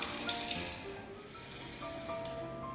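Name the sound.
spray dye on pointe shoes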